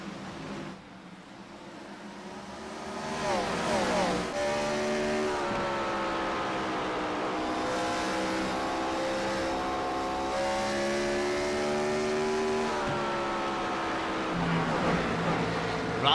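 Several race cars accelerate hard at Bristol in a racing simulation, engines whining and rising in pitch through the gears, a loud sustained roar that swells and falls as the pack charges into the first turn.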